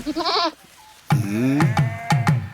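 A goat bleats loudly and close, one short call followed by a longer wavering bleat and several quick pulsing cries, with no talking.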